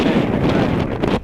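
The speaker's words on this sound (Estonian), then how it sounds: "Just möödisin kõige tugevama tuulepuhangu" A strong wind gust of about 23 m/s roars steadily into the microphone on the coast at Simuna, a loud, continuous buffeting rush with no voices.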